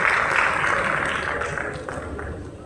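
An audience applauds at a movie trailer launch as a music director is welcomed on stage, dense steady clapping that stays loud throughout and eases only slightly toward the end.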